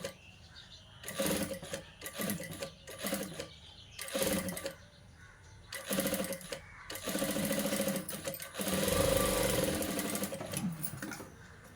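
A sewing machine stitches blouse puff sleeves in loud running bursts, starting and stopping repeatedly with brief pauses between stretches of fast mechanical whirring.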